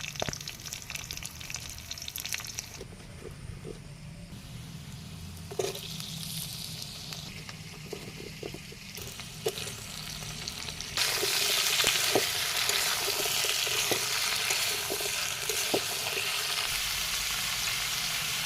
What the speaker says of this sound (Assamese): এতিয়া কাটি থোৱা পিঁয়াজখিনি দি লৈছোঁ